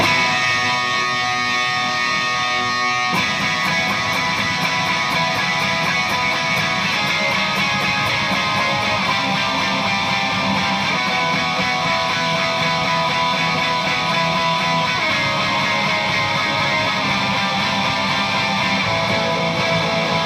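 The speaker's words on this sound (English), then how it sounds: "then I turn on the whammy and then play it again, you'll hear a 2 above" Distorted electric guitar chord through a whammy pedal shifting the pitch up a step, a dense sustained wall of fuzz with a pick-attack burst early on, loud and continuous throughout.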